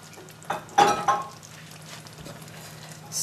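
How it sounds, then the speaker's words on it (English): Lemon juice and prawns with their juice go into Spanish rice with chorizo cooking in a pan: a brief clatter and splash, then a quieter, steady simmering sizzle. "So then we add the lemon juice. And the prawns and their juice."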